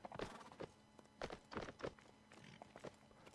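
Horses in the Mount & Blade North & South mod during a Union Army line battle, hooves thudding in irregular clip-clop steps at close range with a few heavier knocks, no speech over them.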